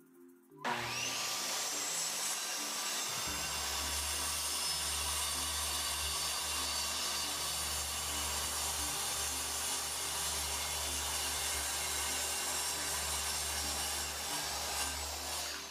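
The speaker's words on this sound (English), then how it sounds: "so that I can cut with the circular saw" A circular saw cuts through wood while building an arcade cabinet base, starting up abruptly and then holding a loud, steady whining cut with a low motor drone for about fifteen seconds, close and continuous.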